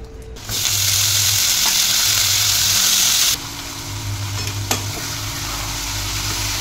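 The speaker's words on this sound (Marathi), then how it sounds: "इकडे आता मेथीची भाजी मी फोडणीला टाकलेली आहे" Fenugreek greens fry in hot tempering oil with a loud, steady sizzle that drops to a lower crackle partway through, with no one speaking.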